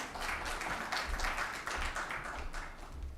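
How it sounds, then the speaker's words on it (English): An audience applauds to welcome a speaker at a World Malaria Day event, a steady wash of clapping with a muffled low rumble underneath, moderately quiet and continuous. "A round of applause as Liz comes."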